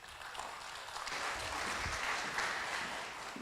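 Audience applause at a Lisbon forum on social responsibility, a steady wash of many hands clapping, moderately distant and sustained without speech.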